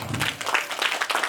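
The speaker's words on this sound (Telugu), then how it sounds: "దానికి మీరు చప్పట్లు కొట్టాలి అందరూ కలిసి" Pupils at an English-medium municipal primary school clap together, a short burst of fairly close group applause with an uneven, rippling rhythm.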